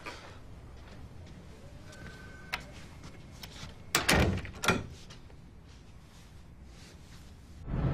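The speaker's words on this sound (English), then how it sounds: "I got a new door." A door opens and shuts at home, two heavy thuds close together near the middle, with a sharp latch click before them and quiet room noise around.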